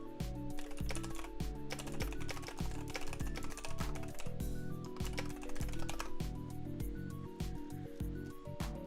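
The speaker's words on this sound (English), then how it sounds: "Damn, that was some fast typing." Very fast, loud typing on a computer keyboard, a dense, unbroken clatter of rapid keystrokes heard up close for nearly nine seconds.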